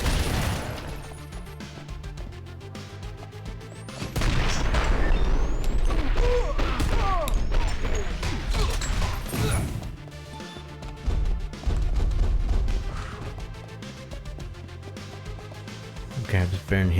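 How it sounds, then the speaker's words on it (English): Explosions and gunfire from the top-down action game Mr. Shifty, a dense barrage of loud bursts and crashes building mid-clip over game music, with a voice talking throughout. "the slowdown time effect does not work on explosions"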